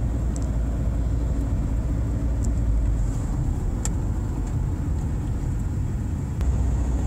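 A Range Rover passes by on a road near the Westhampton Dunes beach on Long Island, heard as a steady, fairly loud rumble and tyre roar that holds throughout without any talk.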